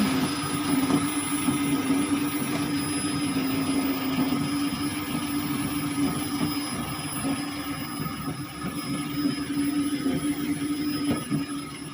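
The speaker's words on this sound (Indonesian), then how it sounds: "Nah, coba dengarkan suara full pumpnya." A rough-running fuel pump in a Daihatsu Xenia car drones steadily, a harsh continuous mechanical hum with a rattly texture, fairly close and alone for the whole stretch.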